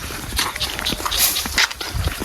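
A dog being led along, its noises blending with rough scuffling and shuffling movement in a busy, noisy outdoor setting.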